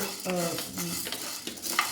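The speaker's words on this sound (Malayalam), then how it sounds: "ഇതേപോലെ ബ്രൗൺ കളർ ആവുന്നത് വരെ വറുക്കാം." Lentils dry-roasting in a pan until brown, with soft scraping stirs and faint crackle close by, a few short clinks of a utensil against the pan, and no talk.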